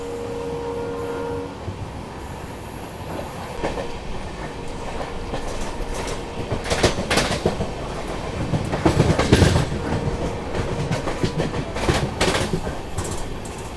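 A passenger train on the Nanded to Delhi route rolls past Ankai Fort station, heard from onboard. Its steady clickety-clack and rumble swell louder midway, and a short horn-like tone sounds near the start.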